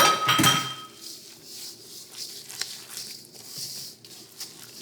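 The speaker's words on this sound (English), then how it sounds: "And then I'm going to mix this all together." A spoon clinks against a bowl at the start as quinoa flakes are mixed into a meatless loaf mixture, followed by soft, faint stirring and scraping.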